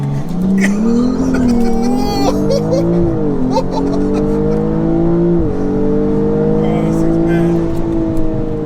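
A BMW with a B58 engine launches hard from the handbrake, its engine revving loud and close as it accelerates, pitch climbing through gear shifts, with tyre noise and voices talking underneath.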